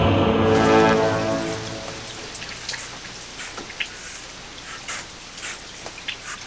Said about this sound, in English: Rain. Just what we need.